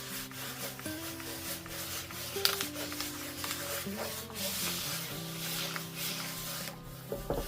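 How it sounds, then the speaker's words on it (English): A backer sheet rubbed over a decorative transfer to burnish it onto a vintage-style clock face, giving a soft, steady scraping and rubbing close by under faint background music. "I'm just going to rub over with the backer sheet. This is burnishing your transfer down"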